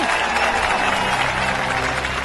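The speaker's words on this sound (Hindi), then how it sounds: "ताली बजाओ ताली।" A crowd bursts into dense, sustained applause, many hands clapping at once in a steady wash of sound that stays loud throughout, with faint voices mixed in.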